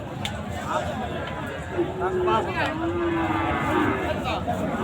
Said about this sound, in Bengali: দর্শক শ্রোতা, পাশে একটা গরু দেখতে পাচ্ছেন, অনেক সুন্দর একটা গরু।